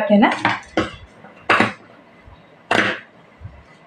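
Scissors cutting fabric while shaping a sleeve for stitching, heard as four or five separate crisp metallic snips with pauses between them, close and fairly loud, with no voices.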